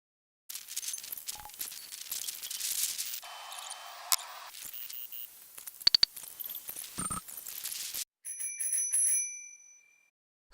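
A Crane bicycle bell rings in a quiet, library-like room, giving a clear, bright metallic ring that lingers near the end, preceded by soft handling clicks and rustles.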